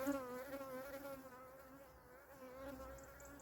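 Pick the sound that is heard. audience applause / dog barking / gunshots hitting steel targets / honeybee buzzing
honeybee buzzing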